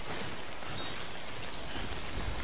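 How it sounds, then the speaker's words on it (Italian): Steady rain in the video game Death Stranding, a dense continuous hiss filling the whole stretch at moderate level with no voices over it. "Piove."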